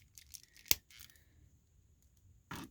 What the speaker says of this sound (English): let's try to pull off the head here